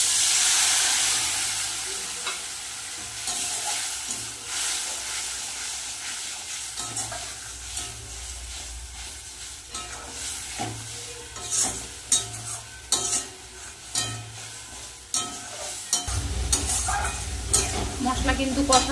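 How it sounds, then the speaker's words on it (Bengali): Spices fried with mustard paste in a pan for a Bengali fish curry with banana flower and prawns, a steady close sizzle and hiss with stirring scrapes throughout, swelling louder near the end. "মশলা কিন্তু কষানো হয়ে গেছে"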